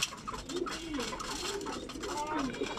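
Racing pigeon hens resting in a loft give soft, repeated throaty coos, close and overlapping, with a voice murmuring in the background.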